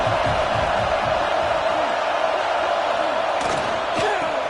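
Stadium crowd noise in a Madden football video game, a loud continuous roar of massed voices with a few brief sharp bursts near the end.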